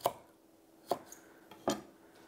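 A knife cuts lightly crushed garlic cloves into thick slices on a board, giving three crisp, separate knocks about a second apart, close and fairly quiet, with no talking.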